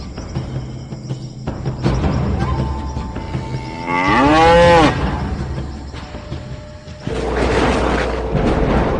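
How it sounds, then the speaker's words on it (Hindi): One loud, drawn-out moo from a cow rises in the middle, close by, surrounded by a constant hum of background noise. "ये तो गाय की आवाज है।"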